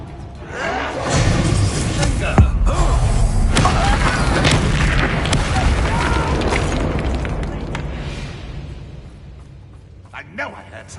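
Bombarda explosion spell going off in the Hogwarts Legacy video game, a loud booming blast with crashing debris and rumble sustained for several seconds, mixed with game sounds and a player talking over it.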